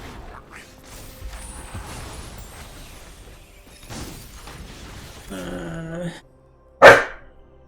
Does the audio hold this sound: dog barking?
yes